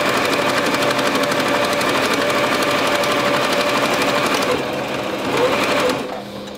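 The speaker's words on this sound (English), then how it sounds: "I'm just gonna go ahead and backstitch and stitch along the edge of this fabric." A sewing machine runs steadily, backstitching and then stitching along the edge of fabric for a scrunchie, with a continuous close, loud mechanical whir that slows and stops near the end.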